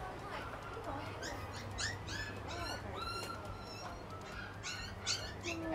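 Puppies in a Hong Kong pet shop give high-pitched whimpers, yips and squeaks again and again in a busy indoor space, with some talking nearby.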